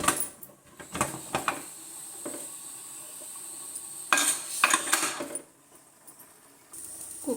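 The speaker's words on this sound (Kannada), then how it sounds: "ಈಗ ಕುಕ್ಕರ್ ಕ್ಲೋಸ್ ಮಾಡ್ತಾ ಇದ್ದೀನಿ." A pressure cooker holding rice for paneer pulao is closed, with metallic clanks, scrapes and clicks of the lid arriving in short bursts separated by quiet moments, heard up close without talk.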